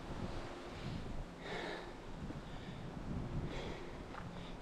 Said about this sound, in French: Pas mal de vent quand même.